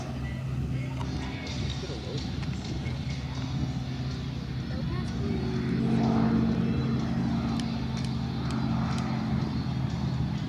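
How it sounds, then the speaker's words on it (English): Full carbon replica Mustang aircraft with a Rotax 915iS turbo engine at an airshow, a steady distant propeller drone that swells slightly midway, with crowd and announcer talk faintly underneath. "The aircraft is equipped with a Rotax 915IS turbo engine"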